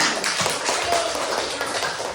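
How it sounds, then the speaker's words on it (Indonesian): Hands clapping from a gathered audience make a soft, steady patter, fairly faint and continuous throughout, with no voices standing out. "iya, tepuk tangannya"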